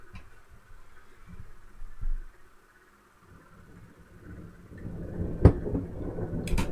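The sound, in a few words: serious thunderstorm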